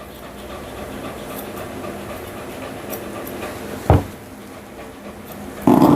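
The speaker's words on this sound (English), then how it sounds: "she's panting and her tongue is hanging out" A nervous toy poodle pants steadily during a grooming session, a continuous rapid breathing texture at close range, with a couple of brief louder bumps and handling noises.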